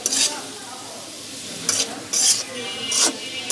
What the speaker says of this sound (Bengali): এখন ভালো করে মাংসের সাথে গাজরগুলো মিশিয়ে রান্না করে নিতে হবে।